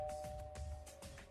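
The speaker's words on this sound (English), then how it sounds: "Doorbell sound." A faint, steady two-tone electronic doorbell chime rings in the video game Super Danganronpa Another 2, a sustained tone over low background hum, very short and quiet.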